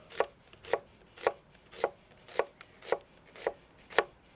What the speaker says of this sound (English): We mince the oregano and half an onion.